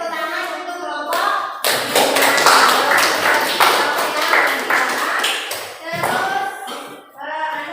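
Sustained applause from a classroom group of people clapping together, loud and dense, with voices audible before and after.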